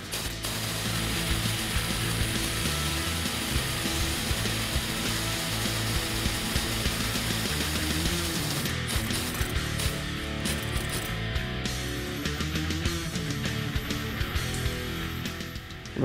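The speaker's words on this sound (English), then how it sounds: "Now we'll decompress the spring." A spring compressor slowly backs off tension on a 2015-2019 Mustang ACCELATEC lowering spring, giving a continuous close mechanical grinding and ratcheting whir that runs dense and steady throughout.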